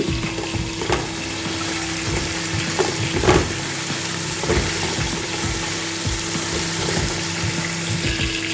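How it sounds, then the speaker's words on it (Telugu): Ginger garlic paste frying in hot oil for chicken mandi gives a continuous close sizzle, broken by occasional sharp clicks and taps of a stirring spoon against the pan, with a faint steady hum beneath. "కొంచెం అల్లం వెల్లుల్లి పేస్ట్ కూడా కాస్త ఫ్రై అయింది"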